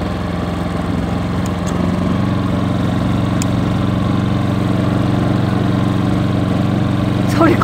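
A portable generator powering a caravan at a camping spot runs with a steady, loud drone close by, holding an even pitch for the whole stretch with no voices.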